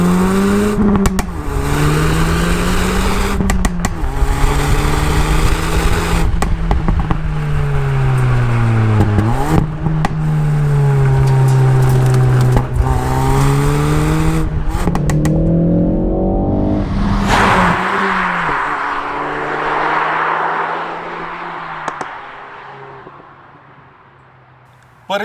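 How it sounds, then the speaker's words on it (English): A 2020 Ford Focus ST accelerates hard under full throttle, engine note climbing and dropping through several upshifts with exhaust burble, loud and near, before fading away as the car recedes; talk is faintly audible. "Floor the throttle and listen to the way the exhaust sounds when you upshift."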